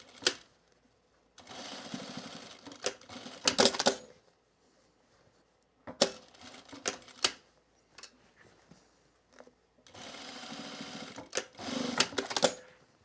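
Sewing machine stitching heavy denim jeans, running in three separate bursts of rapid mechanical stitching with sharp clicks and knocks between runs, close and fairly quiet, with no talking.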